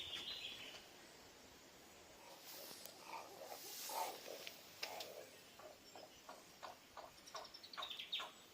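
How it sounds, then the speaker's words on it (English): Three baby fairy wrens at a wildlife sanctuary give faint, high chirps and tweets, scattered short calls in quiet surroundings. "Oh, 3 baby fairy wrens."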